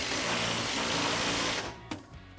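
Ring gear bolts are run down on a Ford 9 inch nodular iron axle, giving a dense, steady buzzing whir from a power tool that cuts off abruptly, followed by a sharp click and a few faint knocks.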